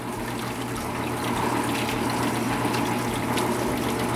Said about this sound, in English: I come over here and this thing be squirting water all over the shop